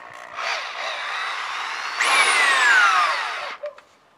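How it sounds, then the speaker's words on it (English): A power drill fitted with a polishing wheel for headlight restoration whirs up, then rises in pitch to a high, steady whine as it spins for a couple of seconds before winding down. "we're gonna put that in the drill"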